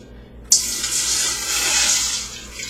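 Distilled water pouring in a steady, continuous stream, starting abruptly after a brief quiet moment and running alone without talk.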